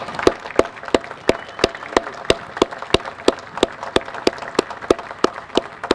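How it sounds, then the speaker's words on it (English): Evenly spaced sharp claps repeat at a steady rhythm at a groundbreaking ceremony, loud and close, with a faint murmur of background noise. "join me in a round of applause for their collective efforts"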